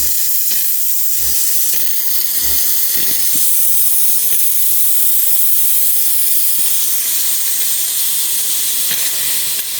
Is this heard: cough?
no